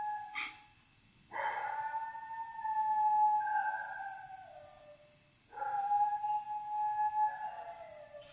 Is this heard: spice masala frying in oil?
no